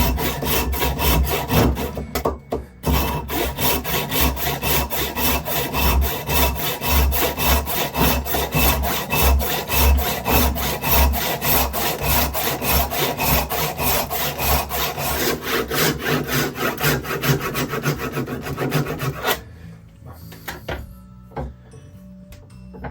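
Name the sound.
blade cutting solid ebony wood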